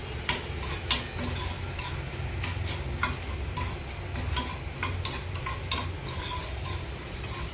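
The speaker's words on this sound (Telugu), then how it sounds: "పోపు వేయించేసుకుందాం." A spice tempering of cumin, dried red chillies, fenugreek seeds and asafoetida frying in a pan, with repeated light ticking scrapes from stirring over a low steady hiss, fairly quiet and without talk.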